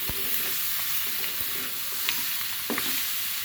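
Spices frying in a pan with a splash of water, a steady close hiss of sizzling with a few sharp scrapes and clinks of stirring throughout.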